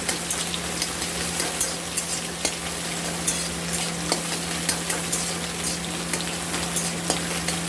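Beaten egg fries in a pan for a bhujia-style scramble, a loud, continuous sizzle close up with frequent sharp scraping taps of a spatula stirring, no voices.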